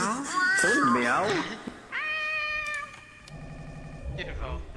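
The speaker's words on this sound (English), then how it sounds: "Meow? Say meow?" A cat meows several times up close, with wavering cries, while someone speaks nearby.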